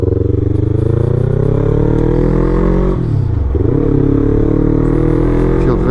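A motorcycle fitted with a full exhaust idles loud and close, a steady throbbing note that dips briefly mid-way before settling back to an even, consistent rumble.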